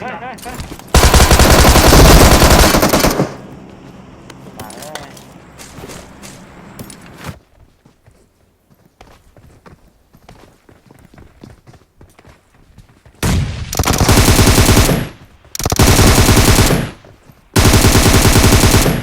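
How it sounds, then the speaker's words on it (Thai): Bursts of UMP submachine gun fire in the PUBG video game, loud rapid automatic volleys in several separate strings, with a long quieter stretch of faint movement and footsteps between them. "นี่นะปืน UMP"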